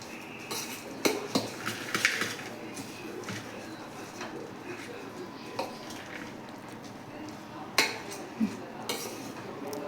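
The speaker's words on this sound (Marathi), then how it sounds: "आता ते आपण चांगले एकजीव करून घेऊयात।" Bhel made with matki is tossed with salt in a bowl, giving close, quiet clinks and scraping stirs with a few sharper knocks against the dish over a soft room background.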